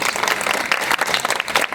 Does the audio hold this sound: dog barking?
no